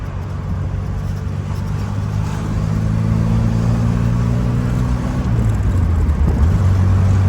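A Lancia Beta Spider 2000 pulls hard at full throttle, heard from inside the car. The engine note climbs steadily in pitch, then drops at a gear change near the end and starts climbing again, loud and rumbling, with no talk.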